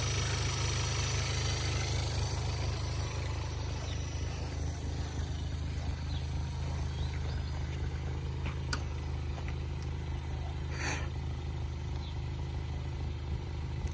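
A 2016 Jetta with the 1.4T engine runs steadily with the parking brake on, a constant close engine drone with no distinct rev swells, alone without talk.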